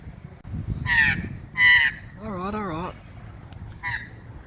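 A magpie gives several harsh, loud calls outdoors on a walk through muddy ground, a cluster of short squawks followed by a warbling, wavering call and one last squawk.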